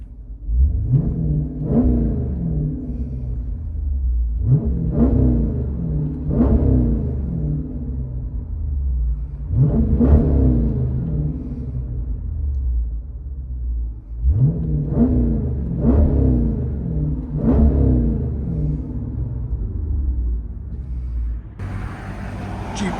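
Heard from inside the cabin, a 2020 Jeep Grand Cherokee SRT with a 6.4L HEMI V8 and Borla Atak exhaust is revved repeatedly in clusters of throaty blips over a low, rumbling idle.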